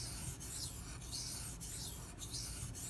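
A Benchmade Mini Freek knife with an S90V steel blade being sharpened gives rhythmic, close rasping strokes across a stone, about five strokes in three seconds, alone and fairly quiet.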